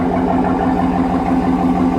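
Cadillac Escalade fitted with a Corsa Sport exhaust, idling with a steady, low, pulsing burble close by and no other sounds.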